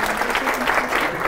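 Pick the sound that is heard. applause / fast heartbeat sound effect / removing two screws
applause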